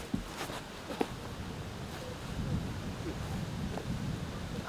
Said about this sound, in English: See that wind blowing from right to left again here.